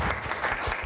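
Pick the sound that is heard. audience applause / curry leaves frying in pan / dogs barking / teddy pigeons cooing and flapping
audience applause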